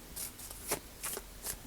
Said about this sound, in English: I like to give them one last shuffle before I pull.